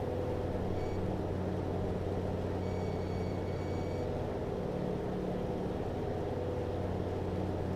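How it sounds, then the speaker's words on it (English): A Grumman Avenger aircraft engine in the MSFS 2024 flight simulator gives a steady, even low drone with a constant rumbling hum throughout and no voices. "Probably the best engine sounds I've heard yet."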